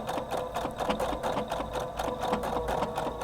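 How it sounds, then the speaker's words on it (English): A Husqvarna Viking Designer Brilliance 80 sewing machine stitching a blind hem in fabric, running in a fast steady mechanical rhythm up close, with no talking. "It's going to sew stitches in the hem and reach over and grab just a bit of the fabric"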